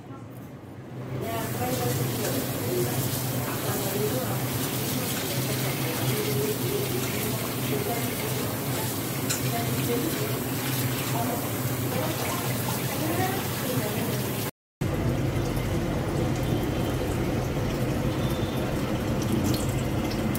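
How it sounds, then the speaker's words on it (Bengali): Cold tap water runs steadily over a snake gourd being rinsed in a kitchen sink, a continuous close splashing flow lasting the whole stretch with only a brief break near the end. "একটু ঠান্ডা জল দিয়ে ধুয়ে নিব।"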